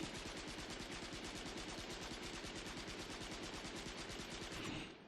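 A Bulldog gun fires on full auto in Valorant, a steady rapid stream of sharp, evenly spaced shots lasting several seconds before cutting off.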